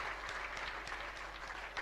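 Audience at a Jain religious discourse clapping together in welcome, a steady, fairly faint wash of many hands with no voices over it.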